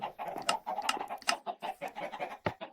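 A Minecraft chicken clucks in a video game, with a quick series of short, close clucks and chirps repeating in an uneven rhythm.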